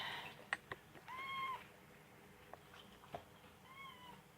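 Domestic cat meowing for food in a home kitchen, several short mewing calls, faint and close over a low background hum, with no talking.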